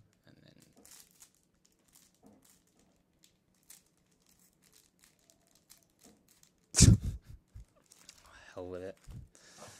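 Pokemon booster pack wrappers crinkle and tear in a few soft bursts amid quiet handling, with one loud close rustle and a person talking briefly afterwards.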